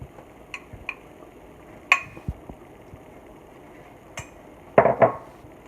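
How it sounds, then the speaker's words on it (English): Italian sausages drop into a pan of leftover ground beef juices with a few hard metallic knocks and clinks, then a brief sizzling burst near the end; quiet between impacts, no speech. "I'm going to go ahead and drop my Italian sausages in there."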